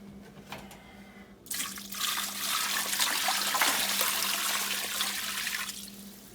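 Tap water gushes steadily into a stock pot filled with pig bones for pork stock, starting abruptly and running loud and continuous for about four seconds before cutting off.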